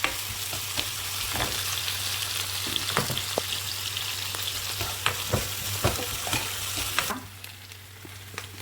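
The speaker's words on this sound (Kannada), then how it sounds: "ಇದೆಲ್ಲ ಚೆನ್ನಾಗಿ ಫ್ರೈ ಆಗ್ತಾ ಇದೆ" Vegetables for aloo gobi mattar sizzling steadily in a hot pan, with continuous close frying crackle and occasional stirring scrapes, the sizzle dropping quieter near the end.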